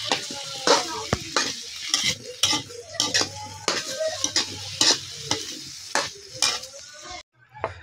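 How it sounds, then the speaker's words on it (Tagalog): Menudo ingredients with potatoes stirred in a cooking pot, giving repeated scraping strokes of a utensil against metal over a faint sizzle in an irregular rhythm, close and fairly loud. "Haluin lang natin ng mabuti."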